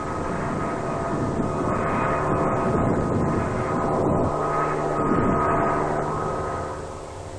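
A strike aircraft on a low-level run during the Vietnam War, where an Australian task force operated. Its loud, steady engine roar fills the whole stretch, swelling slightly midway and easing off toward the end.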